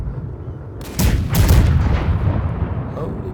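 Cannons fire in a naval battle video game, with heavy booming blasts piling up over a rumbling low roar that swells and lingers, loud and close.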